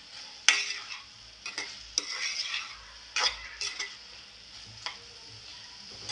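Brinjal (eggplant) is sautéed in a pan, with a soft sizzle under repeated sharp scrapes and clanks of a spatula stirring against the metal, close and fairly quiet, with no voices.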